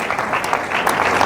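Brief clapping from an audience at a university anniversary colloquium, a short burst of applause at moderate loudness with no speech.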